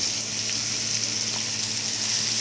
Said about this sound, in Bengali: ভেজে রাখা তেলের মধ্যে মাছগুলো ভেজে এখন দিয়ে দিলাম